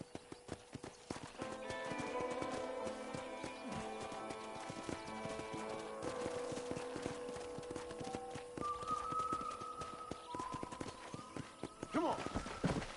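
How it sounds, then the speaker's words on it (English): Horse hooves clip-clop steadily through the Red Dead Redemption game as a rider guides a horse around a frontier property, with a voice talking over the rhythmic hoofbeats and a brief whinny near the end. "I picked out a fine horse for you."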